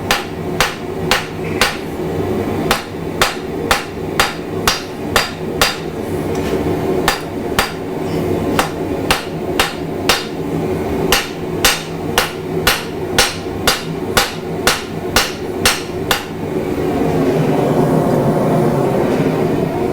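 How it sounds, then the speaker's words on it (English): Steady, evenly spaced blacksmith's hammer blows from the peen side ring on metal being thinned and spread, loud and close, about one strike per second, with a low background hum throughout. "another way to thin this out and spread it out is you use the peen part of the hammer."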